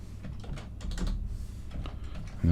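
Rapid clicking of computer keyboard keys in a quiet room, a steady run of light taps lasting a couple of seconds with a slightly louder thump at the end.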